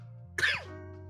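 A single sharp cough follows a hasty sip of whiskey, one brief close burst against a quiet low hum.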